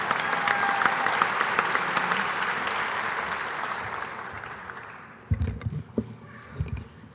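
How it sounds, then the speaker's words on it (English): Audience applause fills a hall at the 2018 WVU Sports Hall of Fame induction ceremony, steady and broad for about five seconds before fading, followed by a few close thumps and brief voices near the microphone. "Please join us for a round of applause for 2018 inductee, Bev Plotke."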